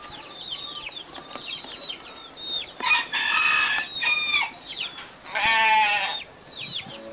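Chickens cluck and a rooster crows at a nature school's coop shared with rabbits and goats, a steady chatter of small clucks punctuated by two loud, drawn-out crowing calls up close.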